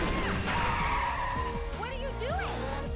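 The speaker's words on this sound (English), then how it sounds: "And there you go, that's drifting." Tires squealing and skidding as a car drifts in the arcade racing game OutRun 2, with the engine roaring steadily underneath and a voice talking over the game sound.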